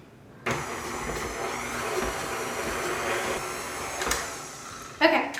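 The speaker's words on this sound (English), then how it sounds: "I'm just gonna stir it on medium, beat it with my mixer until everything is combined." An electric stand mixer beating butter with brown and white sugar on medium speed, a steady close motor whir that starts abruptly and runs evenly, with a brief clatter near the end.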